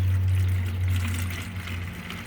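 Banana water poured from a cup onto garden plants, a steady close trickle and splash of liquid under a constant low hum, with no talk.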